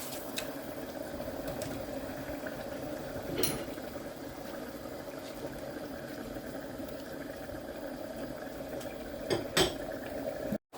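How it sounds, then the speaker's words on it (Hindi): Rice is tipped into a pot of already boiling water: a steady low bubbling roil runs throughout, with a few metallic clinks and a brief pouring rush near the start and end. No one speaks. "ये पानी बॉयल हो चुका है, अब हम चावल ऐड करेंगे।"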